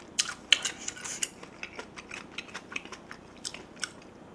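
Someone eating potato sujebi, hand-torn dough soup, close to the microphone: a quiet series of soft, irregular chewing and smacking clicks with occasional faint utensil taps, no talking.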